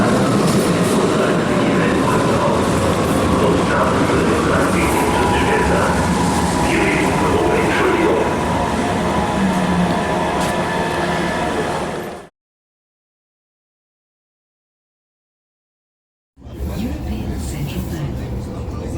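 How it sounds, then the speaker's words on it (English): Frankfurt S-Bahn S6 train ride heard from inside, a loud steady rumble of wheels and motor with faint talk underneath, cut by a few seconds of silence before the noise resumes. "It's my first ride on the S-Bahn."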